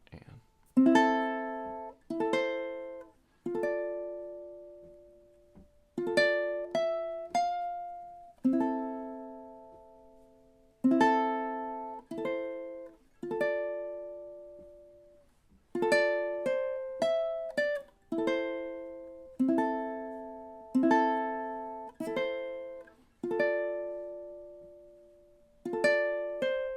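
A solo ukulele plays a slow Japanese-inspired melody from Avatar: The Last Airbender, with clear plucked notes and chords left to ring and decay, in steady phrases with short pauses and no voices.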